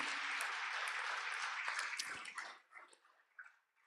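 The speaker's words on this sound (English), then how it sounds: "So a big round of applause again for him." Audience applauding at a yoga festival wisdom talk, a dense steady wash of clapping that thins out and fades into scattered claps after about two and a half seconds.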